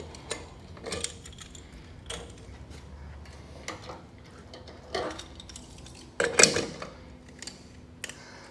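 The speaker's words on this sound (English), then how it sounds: "So I'll first switch this over to the suction." A CECOR SD15 battery-powered sump vacuum is switched over to suction, giving a few sharp mechanical clicks and clunks with a louder rattling burst near the end, close by with no talk.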